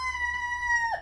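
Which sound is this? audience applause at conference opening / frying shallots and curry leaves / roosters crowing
roosters crowing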